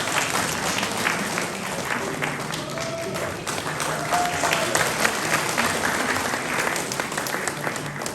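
Audience applause at a Chin community welcome event in Tulsa, Oklahoma, a steady wash of many hands clapping continuously with crowd murmur, moderately loud and sustained throughout.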